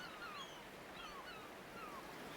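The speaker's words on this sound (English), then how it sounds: "All you can hear is the gentle sound of crashing waves." Gentle ocean waves wash steadily onto a deserted beach in the Ys VIII: Lacrimosa of DANA game, a soft continuous surf wash at low level with faint high seabird-like chirps drifting over it.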